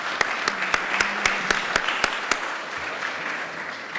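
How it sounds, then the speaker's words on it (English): A small panel-discussion audience claps in a short round of applause, a thin, sparse patter of hands that fades out within a few seconds. "Let's give this panel a round of applause."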